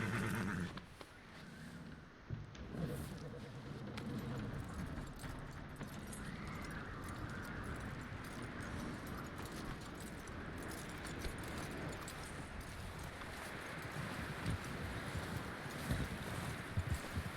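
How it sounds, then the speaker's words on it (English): A horse whinnies and its hooves clip-clop in a video game, with the jangle of tack and soft ambient game sounds around them, fairly faint and steady. "That looks like a decent horse."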